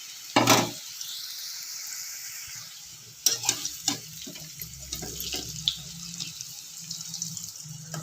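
Potatoes and cabbage fry in a pan, starting with a sharp burst followed by a soft steady sizzle, then scattered stirring clinks and scrapes, with a faint low rumble partway through.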